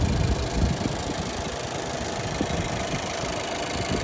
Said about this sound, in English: You can hear the car running, so at least you know it's got the engine and it works